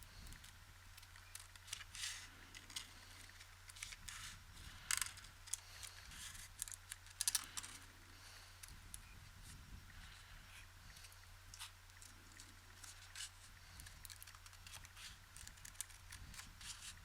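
Small scissors snip shielding tape into a shape for a guitar control cavity, giving faint, close, sporadic cuts and crinkles over a quiet background with no speech.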